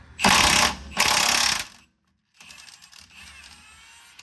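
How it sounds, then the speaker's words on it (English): An impact wrench hammers loudly in two close bursts, loosening a rear control arm bolt, then falls silent before a quieter ratcheting mechanical rattle follows. "So I've got my impact, got a wrench on this side."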